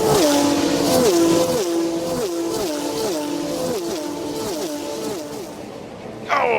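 Formula 3 race cars scream past on the Spa-Francorchamps circuit, engines rising and dropping in repeated gear-shift steps, loud and close. A sharper burst enters right at the end.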